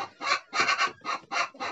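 A hen clucks in five quick bursts, close and fairly clear, with short gaps between each cluck.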